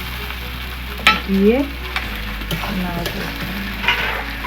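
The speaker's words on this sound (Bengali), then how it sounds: "এই মাংসটা একটু ভাজা ভাজা মতো হয়ে গেছে" Chicken pieces fry with onion and spices in a pan, giving a steady close sizzle with a few stirring scrapes, and a voice briefly speaks over it.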